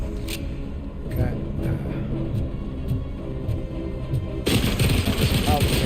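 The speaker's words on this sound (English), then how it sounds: "Oh, machine gun." Machine gun fire in the RoboCop video game, a rapid dense burst erupting loudly near the end after quieter clattering game action and scattered shots, with a voice talking over it.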